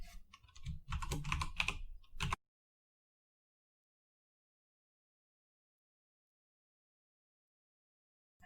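Lines of code are typed on a computer keyboard, a quick run of close key clicks for about two seconds, then silence for the rest.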